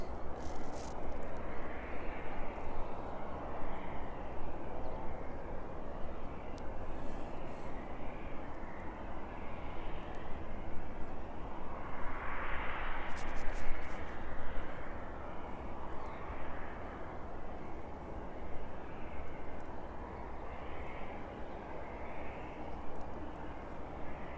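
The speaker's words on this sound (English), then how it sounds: "The ATR then just making its way past Uttoxeter now." An ATR turboprop moves past at an airport, its engine drone and propeller roar steady and fairly loud, swelling briefly mid-pass before holding level, with no one speaking.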